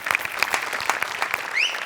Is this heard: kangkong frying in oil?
no